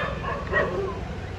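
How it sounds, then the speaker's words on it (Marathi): Dogs bark and yip briefly in the distance at night during Ganpati decoration work at a home, a few short yelps rising over steady background hum. "कुत्र्यांचा आवाज"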